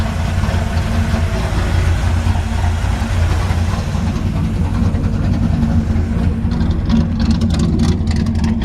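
A 1951 Ford F-1 truck with a freshly rebuilt engine and headers on the exhaust idles smoothly and steadily, a loud, close, low rumble that holds an even tone throughout with no talking.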